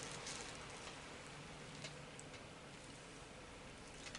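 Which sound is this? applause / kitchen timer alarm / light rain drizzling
light rain drizzling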